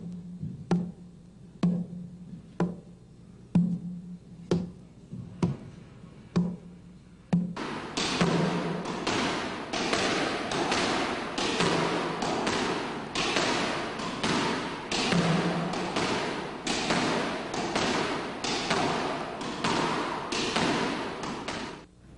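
Squash ball struck back and forth in a volley warm-up exercise between two players on court, first sparse sharp thuds at a steady pace, then a louder, faster run of rhythmic hits echoing in the enclosed court.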